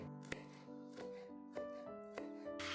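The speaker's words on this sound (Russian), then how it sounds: "Теперь чеснок нарезаем некрупным кубиком" A knife chops peeled garlic cloves into medium cubes on a board, making about five distinct, evenly spaced thuds. Soft tonal music plays underneath.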